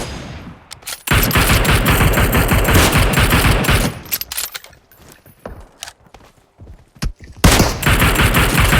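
Rapid bursts of automatic gunfire from the mobile shooter game PUBG Mobile, loud and dense, with a lull of scattered single shots midway before another heavy volley.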